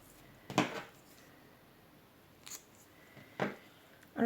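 Scissors snip ribbon in a few short, quiet cuts spaced apart, each a brief crisp shear over a faint room background.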